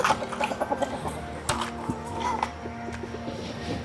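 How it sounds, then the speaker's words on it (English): Several chickens clucking nearby in short bursts, with scattered knocks and rustling around them, on a homestead in the Appalachian Mountains. "Peanuts, you watch over his chickens now."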